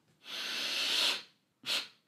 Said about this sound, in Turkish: Derin bir nefes alıyorsun. Bir fırt daha çekiyorsun.